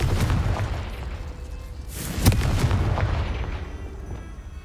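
Confringo blasting spell explosions in the Hogwarts Legacy video game, a dense run of booming game-effect blasts over a constant rumble, with one sharper, louder burst near the middle.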